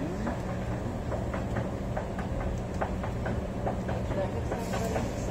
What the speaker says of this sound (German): da sind ja schon Züge da. Na, also es ist ja spitze, da kommt schon der nächste